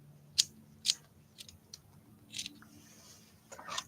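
Scissors snip through art doll material in a few crisp, close cuts, two sharp snips early followed by softer, spaced clicks and rustles in a quiet room.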